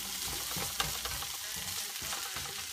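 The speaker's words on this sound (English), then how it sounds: "So we'll just let that simmer for a second and let the sofrito hit" Sofrito and seasonings simmer in a frying pan with steak and vegetables, giving a steady, even sizzle close by with a couple of faint clinks, and no one speaking.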